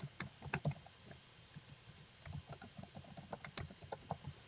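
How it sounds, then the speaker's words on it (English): Typing on a computer keyboard: quick, fairly quiet key clicks in irregular bursts and short pauses, close by, with no talking. "because I can type text"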